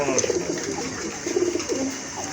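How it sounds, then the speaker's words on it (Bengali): Domestic pigeons at a bird sale, including cream bar hens, coo in low, throaty, repeated murmurs close by, several calls overlapping through the short stretch. "এখানে কিন্তু দুইটা মাদি কবুতর আছে"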